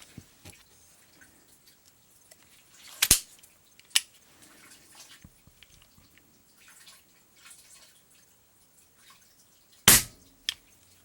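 An Umarex Ruger MkIV air pistol fires pellets in two sharp, separate cracks, a few seconds apart, against a quiet background with small scattered clicks.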